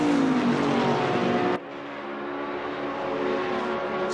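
Race car engines from Assetto Corsa Competizione at a 24-hour race at Spa, a loud steady roar with a pitch sweep early on and a sudden drop in level partway through, no talk over it.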